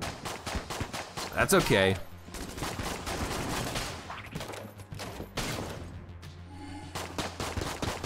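Shotgun blasts in the twin-stick shooter Enter the Gungeon, a loud volley of overlapping shots with rapid game effects, while someone talks over the action.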